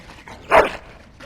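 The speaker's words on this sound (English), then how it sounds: "Bloody dog." A single short dog bark from the Dragon Age: Origins video game, a sharp yelp standing out above quiet background ambience.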